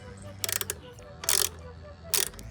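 A ratchet tool clicks in three short bursts, close and fairly loud, while a Smittybilt XRC Gen3 winch part is screwed onto a Jeep, with quiet gaps between the bursts.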